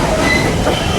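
A train rushing through without slowing, a dense, loud, continuous roar with rail rumble and faint high squeal, close by.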